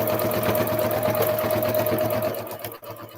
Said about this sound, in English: Putting the needle down the fabric, letting down the presser foot, forward a little, lock your stitch by going backwards and go